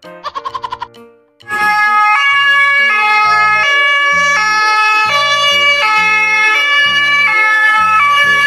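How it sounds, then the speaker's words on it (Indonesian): A few quick electronic chirps, then a toy ambulance siren plays a loud, tinny, melodic wail that repeats steadily throughout. "Mobil ambulan."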